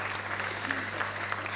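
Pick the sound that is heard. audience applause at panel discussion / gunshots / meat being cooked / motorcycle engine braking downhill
audience applause at panel discussion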